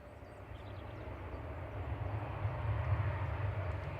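A Virgin Atlantic Airbus A330-300 arriving from New York JFK at Manchester Airport gives a faint, distant jet roar that slowly swells, a broad low rumble with no voices over it.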